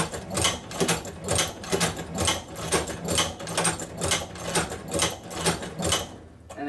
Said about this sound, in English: And then again, we'll continue sewing.